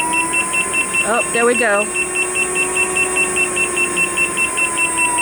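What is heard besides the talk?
speed warning beeps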